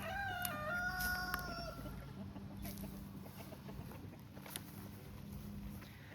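A hen with a limp clucks outdoors in a farmyard, with a brief crow-like call at the start, then softer scattered clucks over steady ambient noise.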